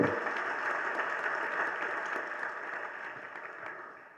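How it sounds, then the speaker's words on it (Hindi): An audience claps through a spiritual discourse, a faint, steady patter of applause that fades slightly toward the end, with no voices over it. "ये बीच बीच में तो आप लोग ताली बजाते हैं ना"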